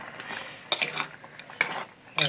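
A spoon stirs a vegetable curry with okra in a metal pot, making three bursts of scraping and clinking against the pot with quieter wet shuffling in between, close and brief, with no voices.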